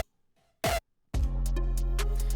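Compressed hardstyle kick built from a 909 drum: a short punchy hit, a gap, then a loud sustained distorted kick tone with a thick low end, playing alone with no voices.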